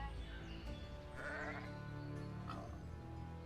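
Sheep bleat faintly twice in the digital board game Caverna, soft and distant over a continuous background music bed.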